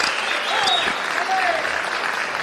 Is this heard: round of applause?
yes